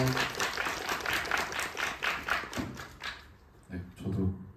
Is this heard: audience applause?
yes